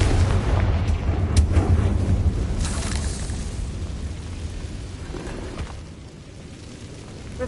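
A Confringo fire spell explodes in the Hogwarts Legacy video game, a loud booming blast with a heavy low rumble and crackling bursts that slowly fade over several seconds.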